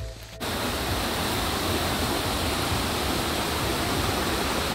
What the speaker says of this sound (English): I hear some waterfalls.